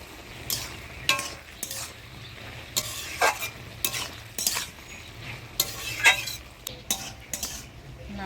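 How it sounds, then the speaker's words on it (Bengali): Gram flour batter with rice flour, turmeric, salt and chili powder is whisked in a bowl for eggplant fritters, giving repeated quick wet stirring strokes and clinks in short bursts, close and moderately loud, with no talking. "এবার বেগুনের জন্য বেসনটা আমি গুলে নিব।"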